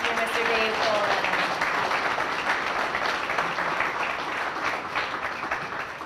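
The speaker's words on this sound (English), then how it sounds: "So one more round of applause for Mr." Sustained, dense applause fills a hall at a Grove City Chamber of Commerce dinner as an honoree is celebrated, steady and loud throughout the whole stretch.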